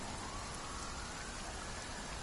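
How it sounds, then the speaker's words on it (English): Steady rain from a game stream, a dense even patter of drops falling on a surface, constant and fairly loud throughout with no voices over it. "is it raining again?"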